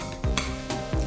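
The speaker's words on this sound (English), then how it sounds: "Mix it all up together." A spoon stirs and mixes a tofu ball mixture with herbs in a bowl, making a few soft, close scraping and squishing strokes at a steady rhythm.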